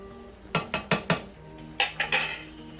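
A utensil clinks and scrapes against a pan while food is stirred: a quick run of four metallic knocks, a pause, then three more.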